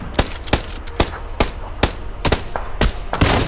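Rapid bursts of gunfire from the battle royale video game PUBG, roughly ten sharp shots in an uneven rhythm, loud and close, with no talk over them.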